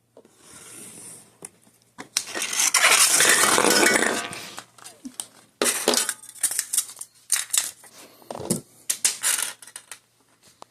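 Scissors cutting the thin aluminium of a pop can for a double-chamber alcohol stove, a series of close scraping, rasping snips with a long sustained cut early on, then shorter choppy bursts, with no talking.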